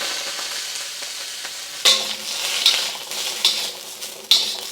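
Green beans dumped into smoking-hot vegetable oil in a wok: quiet low hiss at first, then a loud, steady close sizzle and crackle with repeated bursts of stirring and tossing.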